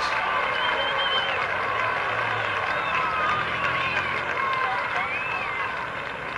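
A crowd roars its approval after Evel Knievel's motorcycle leap over 15 cars: a broad, sustained wash of cheering and applause stays steady throughout the stretch, with a voice talking over it.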